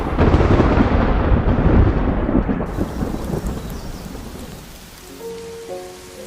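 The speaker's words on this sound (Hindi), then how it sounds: "बारिश में न्योटा की खुशबू और पहचान धुलती जा रही है" Heavy rain pours down with deep rolling thunder, loud and rumbling at first, then easing to a steady patter of drops.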